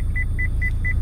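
A car's parking sensor beeping in a rapid, evenly spaced series of four short tones over a low engine rumble, with no talking.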